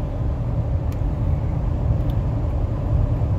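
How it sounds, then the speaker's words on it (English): A 1996 Ford F150 short box 4x4 pickup cruising down the road, producing a low, constant engine rumble and road noise heard from inside the cab, steady with no talking. "I'm just going to let you listen as we're driving down the road."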